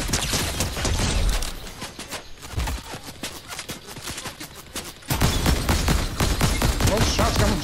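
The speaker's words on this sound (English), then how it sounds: "Those shots come from somewhere else, too?" Rapid bursts of gunfire crackle through a Fortnite duel, dense repeated shots running continuously with a brief lull before a louder volley resumes near the end.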